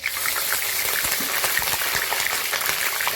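Bay leaves, dried red chillies and cumin hitting hot oil in a pan, a continuous loud crackling sizzle with dense popping spatters, close and steady.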